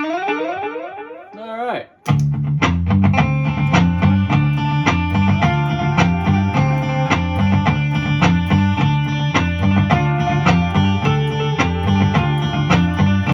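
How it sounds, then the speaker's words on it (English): Looped music with an echo effect pedal added: after a brief descending sweep and a short break, a dense, loud repeating groove carries smeared, ringing echo tails throughout, with a voice speaking briefly at the start. "Let's put that echo that we were talking about earlier."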